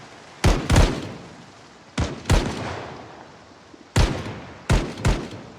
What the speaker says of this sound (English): It seems like the gunfire has kind of slowed down.